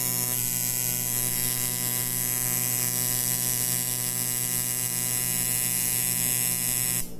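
A tattoo machine fitted with a lining needle runs continuously with a steady electric buzz and hum, loud and unbroken, cutting off abruptly at the end.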